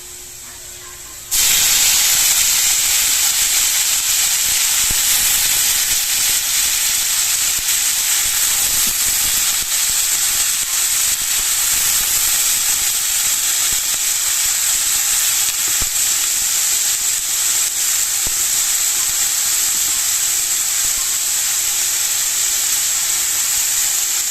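Bitter gourd dropped into a hot frying pan of oil left from frying fish, breaking into a loud, steady sizzle that holds evenly for over twenty seconds with no talking.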